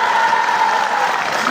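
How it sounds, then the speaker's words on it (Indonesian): Audience applause at a student evening event, a dense steady patter of many hands clapping, loud and close, filling the short moment without a break. "Tepuk tangan dulu."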